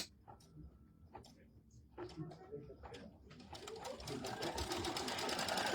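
A sewing machine tacks down fabric pieces for a pieced fall trivet, its needle running in quick bursts that build into a steady whir, with faint voices and pigeon coos in the background.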